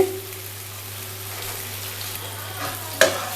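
Soft, steady sizzling of eggplant frying in oil, with a faint clink near the end; no talking.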